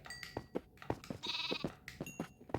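Sheep bleat repeatedly in a video game, several short overlapping calls in quick succession at moderate loudness, with no talking over them.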